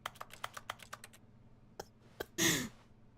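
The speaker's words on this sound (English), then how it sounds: "It just sounds like you're just like pounding your keyboard." Keyboard-pounding interaction sound from the video game The Stanley Parable: Ultra Deluxe, a fast run of sharp, close clicks and taps followed after a pause by a few isolated knocks and a brief, louder rushing burst.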